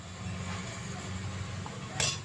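Grated coconut being stirred into cooked cabbage in a pan, with soft metal scraping and clinking of a spoon against the pan, steady and close, ending in one brighter clink.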